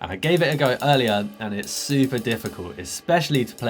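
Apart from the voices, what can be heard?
No everyday noises stand out.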